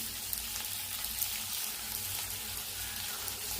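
Onions fry in a pan for a Kottayam-style beef curry, giving a faint, continuous sizzle with soft kitchen clatter and no talk.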